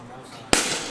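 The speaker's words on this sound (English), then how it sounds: "I had the bright idea to put a marshmallow in a party popper to see if I can make a marshmallow cannon" A party popper loaded with a marshmallow goes off in one sharp, loud bang followed by a brief hiss of decay, after a moment of quiet room tone.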